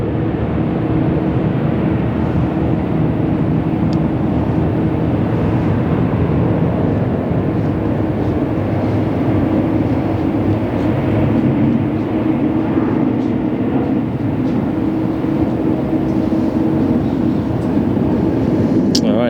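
A steady, broad roar of heavy jet airliners at LAX fills the whole stretch, continuous and fairly loud, like planes passing or idling at a distance with faint voices mixed in.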